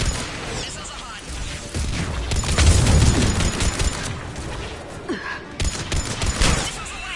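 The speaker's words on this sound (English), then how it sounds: "Firing another salvo." A missile salvo fires in the sci-fi game Mass Effect 3, a rumbling launch with whooshes and booming blasts that swell in the middle amid busy battle noise, with voices mixed in.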